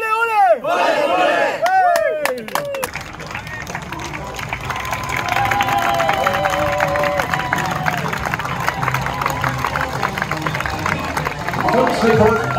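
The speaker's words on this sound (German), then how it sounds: "ihr klatscht euch warm und das ist gut" Spectators at a marathon and half marathon clap and cheer loudly in a dense, continuous wash of applause and shouts, opening with a few rising whoops and calls over the crowd.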